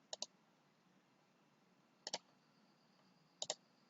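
Mouse clicks while placing an icon on a C# payroll application form, in three distinct pairs of sharp double clicks spaced apart, close and quiet, with no talk.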